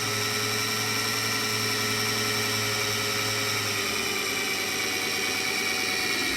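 Power drill boring a hole through the wall of a homemade cement flower pot, a steady, loud whirring grind that runs on without a break and with no talk over it.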